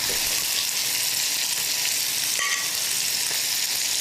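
Lamb cutlets with a cheddar and cashew crust pan frying in hot oil, a steady close sizzle with a brief crackle midway and no talking.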